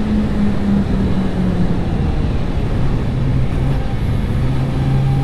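A Suzuki GSX-R750 sport motorcycle on a race track holds a loud, steady engine drone close by, with uneven throttle making the pitch wobble and dip in a few places.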